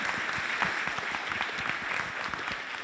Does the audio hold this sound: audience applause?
yes